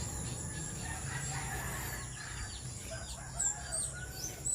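Chicks moved into a larger brooder, heard as faint scattered peeping and chirping with an occasional louder fowl call over a steady background hiss.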